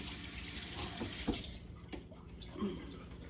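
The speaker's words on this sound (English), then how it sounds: "Now let me wash my hands real quick." Tap water runs steadily into a kitchen sink while hands are washed, a close, continuous splashing rush with brief louder splatters as the hands move through the stream.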